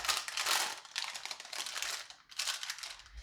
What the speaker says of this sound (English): And then I just press it down into the parchment paper really well.